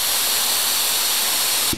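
An AeroJet RS1 HVLP turbine spray gun sprays paint in a loud, steady, close hiss of air that cuts off abruptly at the end.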